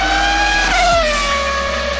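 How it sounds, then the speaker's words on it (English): A high-pitched, loud engine whine from a racing car sweeping downward in pitch as it passes, with a steady low rumble beneath and no talking. "you go from screaming V10s and"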